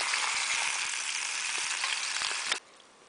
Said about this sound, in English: the eggs are frying